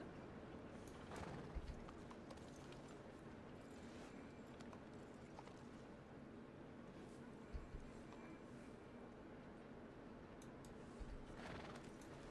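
Faint horse hoof clops in Red Dead Redemption 2 come at intervals over a low, steady background hum and rustle, with occasional soft thuds.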